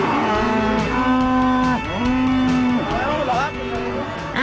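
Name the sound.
cattle mooing being moved into corral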